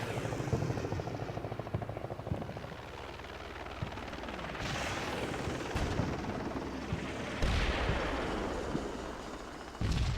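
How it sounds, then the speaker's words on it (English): A helicopter in a Ukraine war campaign video game keeps up a loud rotor thump throughout, with bursts of gunfire and explosions layered over it. "now I see a helicopter shooting at something out here"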